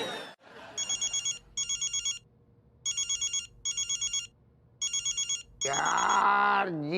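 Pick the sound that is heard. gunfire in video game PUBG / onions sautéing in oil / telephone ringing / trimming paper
telephone ringing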